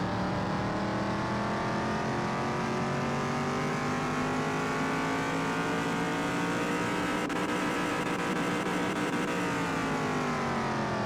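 A modified Ford F-150 Raptor pickup truck engine revs hard on a dyno, a loud continuous roar with rising harmonics held for about eleven seconds, no voices.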